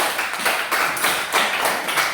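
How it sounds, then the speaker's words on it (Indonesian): A classroom of students applauds a classmate with rhythmic group clapping that swells in regular pulses, close and fairly loud, with no talking over it. "tepuk tangan buat Leha"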